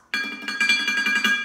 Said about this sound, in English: Here's the sound of the pot.